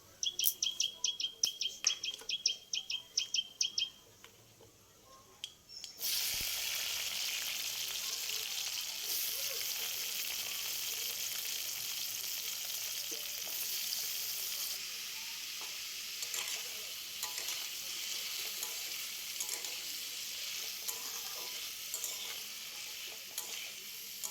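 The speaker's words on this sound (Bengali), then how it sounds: "পেঁপে আর আলুটা একটু ভেজে নেব" Birds chirp briefly, then papaya and potato hit a hot pan and a loud, steady sizzle of frying carries on to the end.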